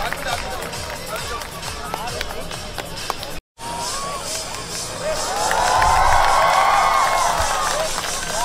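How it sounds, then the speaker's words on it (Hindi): Crowd at the Jaipur dog show in 2022 clapping and cheering, a dense continuous patter of hands with a voice shouting over it, a brief cut, then louder cheering swelling. "जोरदार तालियां हो जाए भी।"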